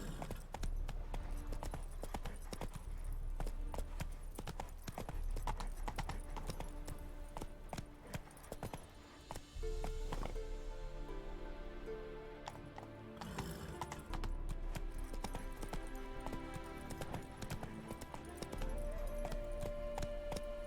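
A horse gallops in the video game The Witcher 3, with dense, rhythmic hoofbeats running steadily throughout, a brief whinny, and game music playing underneath at low level.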